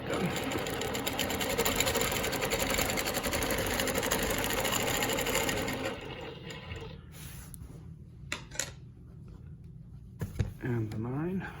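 Longarm quilting machine stitching Baptist fan patterns along rulers, a dense rapid mechanical hum for about six seconds before it stops, leaving faint handling noises and a brief voice near the end.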